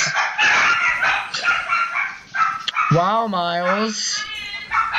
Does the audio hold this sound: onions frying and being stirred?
no